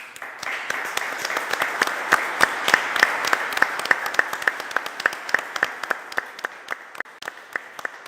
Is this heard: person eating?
no